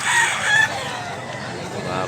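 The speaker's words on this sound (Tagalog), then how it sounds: "Gandang manok." A gamecock rooster crows close and loud at a market in Mantalungon, Cebu, in one short, strained call over busy background noise.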